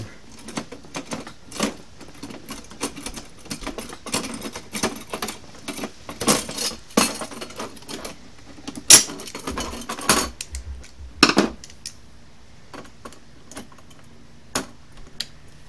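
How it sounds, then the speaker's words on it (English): Metal clinks and ticks sound irregularly as vice grips are used to bolt down a TV pole mount, with scattered light rattles and a few sharper knocks close by. "you're going to get uh, vice grips. Works really good with vice grips. And then you're going to bolt it down"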